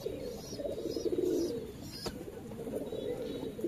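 Pigeons cooing in a loft among paired breeding birds, a soft continuous murmur of low coos close by, with a brief sharper sound midway and no talking.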